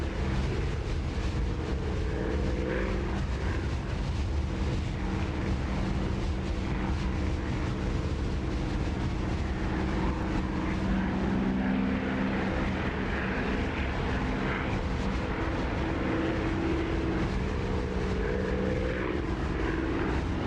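A propeller aircraft engine in a flight sim game drones steadily and loudly with a constant tone and no pauses, with no voices over it.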